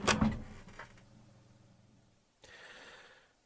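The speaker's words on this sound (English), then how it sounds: "he opened the microwave door early, took his food out" Microwave door popped open early, a sharp latch clunk at the start followed by a fading mechanical ring, then a softer rustling sound afterward.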